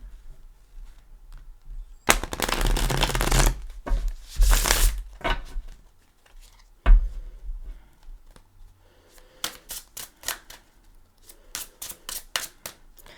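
Brisk bursts of tarot cards being riffled and shuffled up close, with a long rustling run, a shorter one, then lighter scattered flicks and taps.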